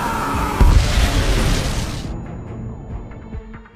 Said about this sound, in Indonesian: Ledakan dahsyat yang telah menewaskan 3 nyawa itu